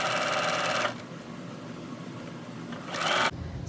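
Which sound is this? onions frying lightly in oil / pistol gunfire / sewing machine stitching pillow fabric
sewing machine stitching pillow fabric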